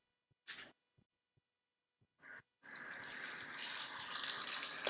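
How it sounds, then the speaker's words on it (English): Cold water from a kitchen tap pours into a bowl of mixed salad leaves: two short splashes come first, then a steady, close rushing stream runs to the end. "We're gonna fill it up with cold water"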